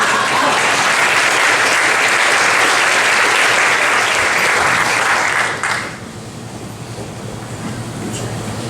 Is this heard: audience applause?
yes